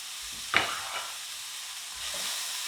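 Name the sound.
stirring onions frying in a pan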